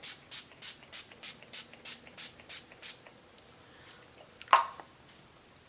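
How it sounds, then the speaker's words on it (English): Makeup setting spray misted from a pump bottle, about a dozen quick rhythmic spritzes in a row, close and crisp, followed by quieter handling sounds and one sharper tap near the end. "using a really good setting spray is key to getting your makeup to stay and last"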